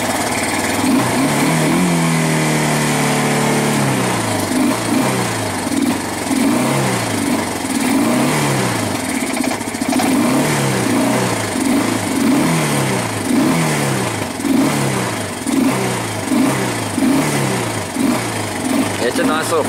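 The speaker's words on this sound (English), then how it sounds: "now that it's warming up, starting to speed up a little bit" A 1999 Kawasaki Bayou 220 ATV engine warms up close by, a loud steady small-engine idle with repeated revs rising and falling throughout, while a person talks over it.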